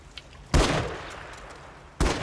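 Two loud bursts of Rival 9 SMG fire in Modern Warfare 3 ring out close, the first sustained for over a second and the second starting just before the end, with quiet gaps around them.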